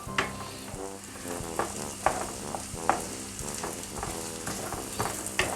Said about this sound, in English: So we're going to fry these for a few minutes so that they start to soften.